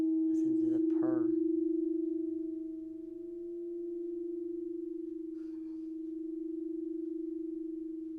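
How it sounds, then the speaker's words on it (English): A singing bowl tuned to 639 Hz holds a pure, sustained ringing tone, soft and steady with gentle swells in loudness, briefly overlaid by a short rubbing or striking sound near the start. "639 bowl frequency to set the frequency in your heart."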